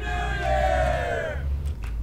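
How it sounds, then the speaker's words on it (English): Crowd of voices shouting a New Year greeting together as an added sound effect, a loud sustained cheer that swells and then fades into a brief quieter tail. "I'm just gonna have a crowd saying in Happy New Year!"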